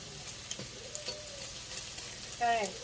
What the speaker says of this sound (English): we're frying up some bacon. Let that fry.